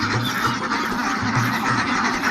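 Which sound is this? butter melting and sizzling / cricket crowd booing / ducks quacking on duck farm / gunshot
ducks quacking on duck farm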